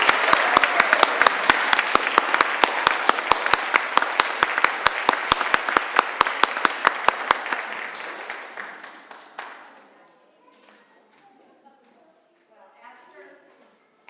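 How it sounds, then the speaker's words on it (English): Warm applause from a congregation at a winter solstice worship service, dense steady clapping for about eight seconds that fades into scattered claps and quiet room murmur. "One more round of applause for all the effort and time"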